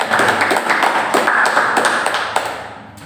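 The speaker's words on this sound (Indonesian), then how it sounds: "Aplaus buat Kak Wisnu." A brief round of applause for a participant at an indoor incubator event: scattered hand claps and taps from a small audience, fairly close and steady, fading near the end.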